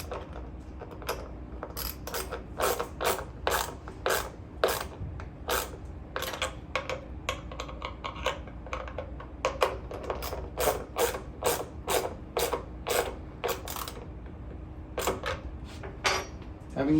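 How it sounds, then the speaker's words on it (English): A ratchet fitted with a 7/16 deep socket tightens nuts on an enclosure, giving long runs of quick, rhythmic clicking strokes that pause briefly and then resume, close and clear over a low steady background hum. "I'll grab a couple tools, 7/16 wrench, 7/16 deep socket, and I'll tighten these up really tight."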